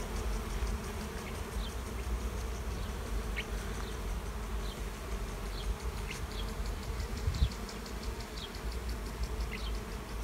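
Honey bee swarm buzzing steadily around an overgrown hive, a dense continuous drone close by with occasional louder individual bees passing near.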